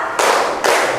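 An audience claps in unison during an ice-breaking clap game in a classroom or hall, two sharp, loud collective claps spaced about half a second apart.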